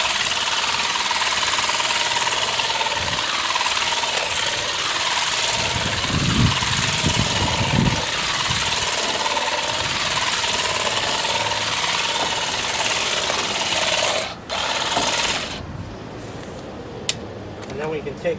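An ALLOYMAN 8-volt cordless hedge trimmer buzzes steadily and close up while cutting through tufts of garden growth, its motor whine continuous with brief rustling bursts, pausing near the end.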